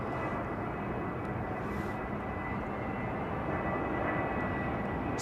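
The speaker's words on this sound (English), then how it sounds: "787 Dreamliner, Virgin Atlantic" A Virgin Atlantic Boeing 787 Dreamliner at London Heathrow produces a steady, fairly faint aircraft engine rumble that holds evenly throughout, with no one talking.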